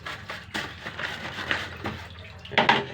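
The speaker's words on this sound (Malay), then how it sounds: "Siram air lagi." Water sprayed while cleaning an air conditioner, a close hissing splash in uneven bursts that swells and fades, with a sharper gush near the end.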